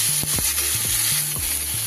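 Chopped tomato frying in a pan with onion, ginger and garlic for a Bengali crab curry, a steady close sizzle broken by several sharp spatula scrapes and knocks against the pan.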